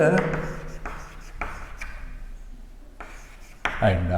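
Pen or marker scratching numbers by hand on paper or a board, with short scribbling strokes coming in bursts that are separated by pauses, heard close up with faint room noise behind.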